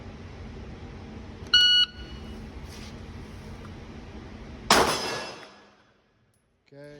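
A shot timer gives a sharp electronic beep at a shooting range during active shooter training, followed by a loud gunshot that rings out and decays into silence.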